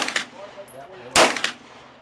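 A Glock 21 SF .45 pistol fires on an outdoor range, one loud, sharp report standing out clearly, with a fainter crack heard before it and another after.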